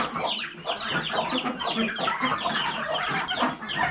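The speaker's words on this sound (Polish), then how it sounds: "To są gęsi." Dense, busy honking and clucking from a flock of geese, close by and continuous, with no talking.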